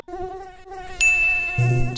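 A mosquito whines steadily close by in a thin, high, wavering buzz. A brief bright ding joins it partway through.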